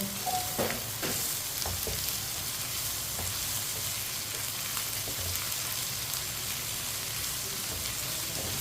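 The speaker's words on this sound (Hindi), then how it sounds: "कटी हुई शिमला मिर्च डाल लेंगे। 2 मिनट के लिए पका लेंगे शिमला मिर्च और प्याज को।" Chopped capsicum and onion sizzle in a pan for tinda sabzi, giving a steady, close crackling hiss throughout with a few faint clicks of stirring and no talk.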